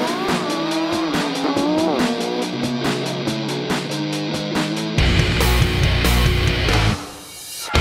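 An Alfa Romeo 4C sports car drives hard on the Balocco test track, its engine loudly climbing and dropping through quick gear changes, then a harsh, rough roar near the end.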